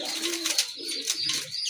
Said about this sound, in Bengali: দেখেন এক জোড়া রাজগোল্লা কবুতর, এটা কিন্তু সম্পূর্ণ রানিং কবুতর।